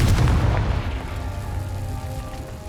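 Confringo fire-blast spell in Hogwarts Legacy lands as a heavy booming burst that rumbles loudly, then fades into a long, ringing decay with no voices.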